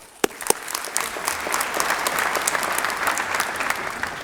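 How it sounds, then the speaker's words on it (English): Audience at a graduation ceremony breaking into applause, a couple of sharp first claps swelling quickly into a full, sustained round of clapping from many hands. "I think just a round of applause for them."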